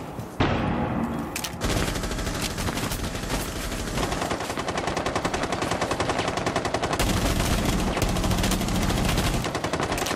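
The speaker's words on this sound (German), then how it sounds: "Sniper schießt hier rein." Loud, dense gunfire from a video game, with rapid machine-gun bursts and repeated shots pouring into a room almost without a break, close and harsh throughout.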